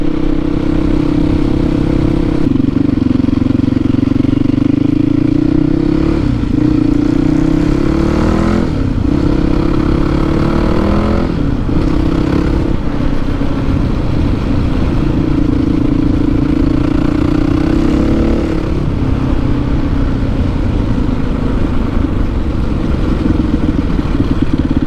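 A loud Yamaha WR450F motorcycle with a new exhaust baffle idles close by, slightly high, with a deep, throaty exhaust rumble. It runs steadily throughout, with slight rises and dips in pitch.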